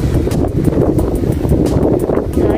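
Gusty wind blows across the microphone beside a lake in Los Baños, a loud continuous rough buffeting with no other clear sounds.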